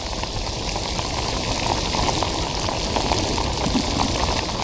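Heavy rain pours steadily during a flood, a dense, continuous broadband hiss with constant loudness throughout and no voices.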